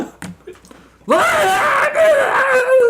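A person voices an imitation of a scream from someone whose arm was pulled off, a loud, sustained wailing yell rising after a short pause with brief murmuring before it.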